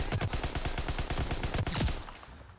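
Gunfire in Call of Duty: WW2 multiplayer plays as a rapid burst of automatic shots in a quick, even rhythm. The fire is fairly faint and stops after about two seconds.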